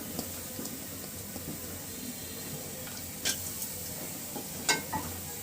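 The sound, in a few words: chopped onion sizzling in pot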